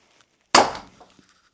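A single sharp, loud blast of a TS68 tank's left cannon firing in a video game, with a quick decaying tail, isolated against near silence.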